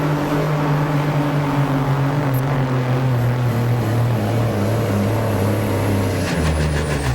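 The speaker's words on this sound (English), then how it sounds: "the KTA 600 Cummins goes to work hard" A hot rod semi truck with a KTA 600 Cummins diesel engine pulling at a truck pull in Salem, Indiana: a loud, sustained, roaring drone that strains and sinks in pitch, heavy and continuous throughout.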